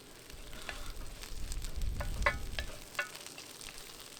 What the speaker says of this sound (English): Oh, listen to them sizzling.